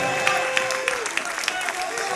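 An audience at a live concert in a theatre applauds, a steady wash of clapping with a few sharper individual claps near the front, running beneath a voice addressing the crowd.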